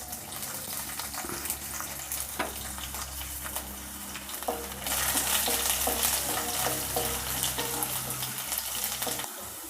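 Chopped garlic and cumin hit hot oil in a pan for a Tamil-style mutton liver fry, giving a steady close sizzle with stirring scrapes that grows louder halfway through.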